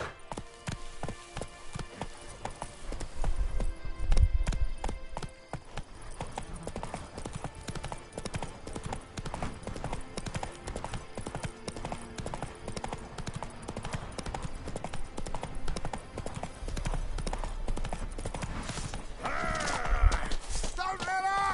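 A horse gallops in The Witcher 3 with rapid, steady hoofbeats clopping throughout alongside game music and ambience, a brief whinny near the end, and a voice talking over parts of it.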